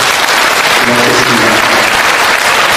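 Loud, dense applause from an audience at a Buddhist dharma talk fills the whole stretch, steady and close, with faint speech mixed in.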